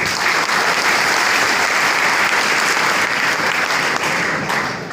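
Students and staff clapping at the inauguration of an ITI lab in Begusarai, a loud, sustained wash of many hands from a room full of people, steady from start to finish without speech on top.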